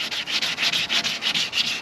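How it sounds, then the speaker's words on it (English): Wet sandpaper rubbed back and forth on cracked boat gelcoat, a steady rhythmic scrubbing of about ten close, even strokes with no talking. "Sandpaper."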